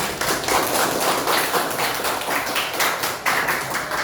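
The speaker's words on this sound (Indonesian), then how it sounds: "Tepuk tangan." A classroom of students claps together after a group presentation, a dense, steady patter of many hands lasting several seconds at an even, moderately loud level.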